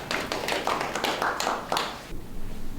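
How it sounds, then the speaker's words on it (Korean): Audience applause at a 2020 local tourism meeting in Hacheong-myeon comes as a brief burst of moderate clapping that fades out after about two seconds. "박수 일단 한번 드리고"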